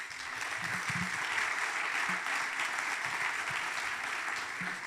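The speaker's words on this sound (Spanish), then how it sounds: "Yo le daría un aplauso al Señor." A church congregation applauds during a Spanish-language sermon on the resurrection, a steady, even wash of clapping that holds at a moderate level for the whole stretch, with scattered faint voices beneath it.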